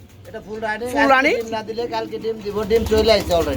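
Farm pigeons coo in low, rolling calls, mixed in with people talking nearby over them.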